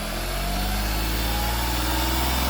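A 2012 Volkswagen Polo diesel engine runs loud and close during an engine check, holding a steady, rough hum with a slight rise in revs throughout.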